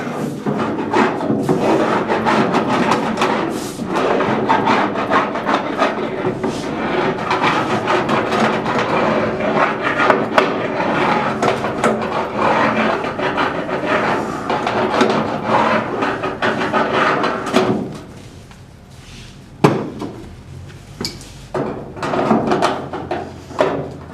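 A Wuko hand bending tool is run along a zinc sheet for a countertop, a loud continuous metallic scraping and rubbing for most of the stretch, then a quieter gap broken by a few sharp knocks.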